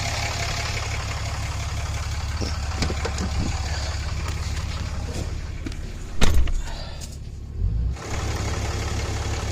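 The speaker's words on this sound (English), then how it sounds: "Gonna let the truck get all the way warmed up." A 2014 Ram pickup with a Cummins diesel engine idles steadily while warming up, a low even rumble, with a couple of brief clunks and rustles nearby partway through, and no talking.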